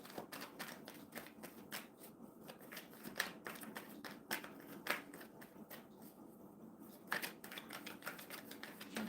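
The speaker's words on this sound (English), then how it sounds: "Shuffling for Montaigne." Tarot cards are shuffled repeatedly by hand, producing quick crisp riffling and slapping bursts in an irregular rhythm, close and fairly quiet.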